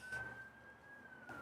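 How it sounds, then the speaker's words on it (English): A siren wails in the background, one long steady tone held through the whole moment, distant and fairly faint, with no talking over it. "you listen to that siren in the background there."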